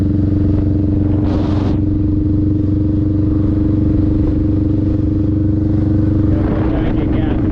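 A motorcycle being ridden through practice maneuvers, a steady loud engine drone with wind rumble throughout, a couple of brief rises in pitch as it shifts gears, no voices heard.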